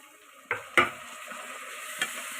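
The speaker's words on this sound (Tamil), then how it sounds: "இப்போ வந்து வெங்காயம் பொன்னிறமாக வதங்கிட்டு" Onions sautéing in a pan until golden for chicken biryani, with a soft steady sizzle broken by a few sharp scrapes of a spoon stirring close by.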